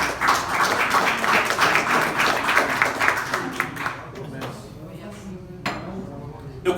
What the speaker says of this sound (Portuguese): aplaude o Senhor em nome de Jesus